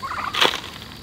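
A single short turkey gobble on a farm, a quick rattling burst at moderate distance over faint background noise, with no talk.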